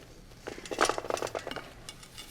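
A plum tart being freed from its baking pan, with a quiet flurry of metallic clinks and light taps bunched into the middle of the moment, set against near silence.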